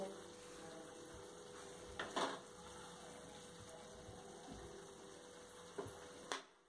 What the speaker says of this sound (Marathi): मसाले चांगले फ्राय होत आहेत.